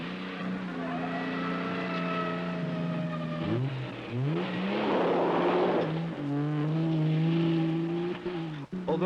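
A Triumph TR6 race car tears around a track in Monterey, California, its engine note climbing and dropping through gear shifts, loud and close, with a steady harmonic drone and brief squeals as it brakes and turns.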